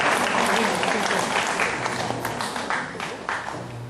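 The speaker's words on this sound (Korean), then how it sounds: "오늘 박수 한번" Church congregation applauding after a Friday special lecture, a dense wash of clapping that gradually tapers off over a few seconds, with faint voices underneath.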